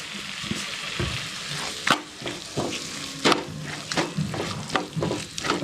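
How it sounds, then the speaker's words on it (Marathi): Masala spice and turmeric fry in a pan with a steady sizzle, broken by several sharp scrapes and stirring knocks at uneven intervals, close by. "आता हा मसाला आणि जे हळद टाकलेले आहे ते फ्राय करून घ्यायचं आहे"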